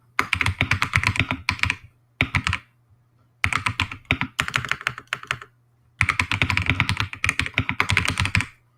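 Computer keyboard typing in three quick bursts of rapid, close clicking and clacking keys, separated by short pauses, with a low steady hum underneath and no talking.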